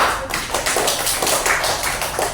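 Children in a classroom clap their hands together in a dense, steady round of applause, close and fairly loud, sustained without a break.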